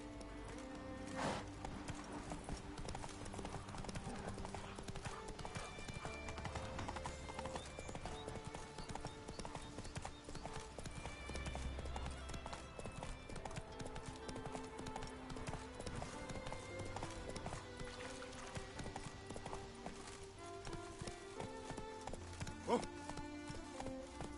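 Steady clip-clop of the horse Roach's hooves in The Witcher 3 game, a continuous galloping rhythm under ambient game music and atmosphere, with a brief whinny.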